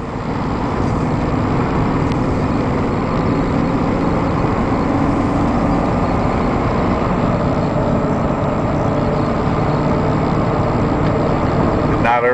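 A 2002 Chevy 3500 HD utility-body truck with an engine miss runs steadily nearby, a loud continuous rumbling drone filling the whole stretch without a break.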